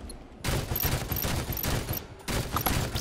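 Bursts of gunfire in the Halo 5 Guardians multiplayer beta, loud rapid shooting starting after a brief lull, pausing near two seconds, then resuming with dense overlapping shots.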